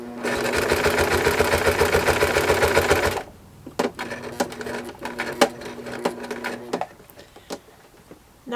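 A home sewing machine quilting a baby quilt, running in a fast, steady mechanical chatter for about three seconds, then stopping, followed by scattered clicks and handling sounds as the needle is lowered and the quilt is adjusted.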